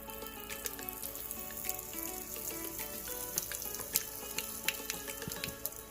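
Mustard seeds and asafoetida sizzle in hot oil for green apple thokku, a steady crackling hiss with scattered sharp pops throughout, close and moderately loud, with no voices.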